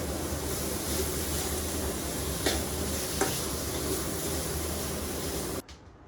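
A spice mixture with curry leaves sautéed in a pan for Kuttanad-style karimeen pollichathu gives a steady, soft frying hiss with a couple of faint stirring clinks, then cuts off abruptly near the end.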